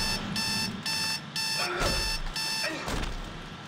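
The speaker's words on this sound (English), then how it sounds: "that's how I turn off my alarm every day" An electronic alarm clock rings in loud, rapid repeated beeping bursts, close and insistent, with a few thumps and rustles as it is handled.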